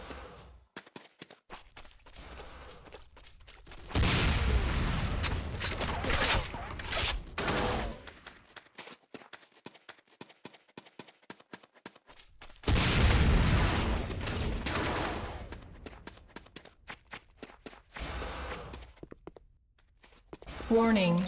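Bursts of gunfire crackle during a power plant attack in the video game Renegade, with dense volleys, rapid single shots and a booming blast, separated by quieter stretches.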